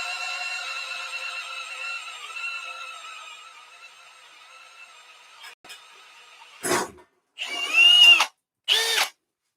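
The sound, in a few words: Milwaukee drill with multi bit drilling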